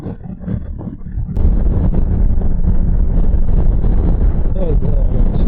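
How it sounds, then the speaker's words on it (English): Heavy wind buffets the microphone on a Honda Africa Twin motorcycle ride in a continuous loud roar, rising sharply after a brief quieter moment near the start. "It's extremely windy today also."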